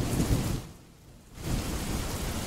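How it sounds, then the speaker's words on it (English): Synthetic thunderstorm with rain from the Noisli noise generator app, a steady broadband hiss of rainfall with low rumbling, dipping briefly quieter in the middle before swelling back to full level. "turn down our storm here."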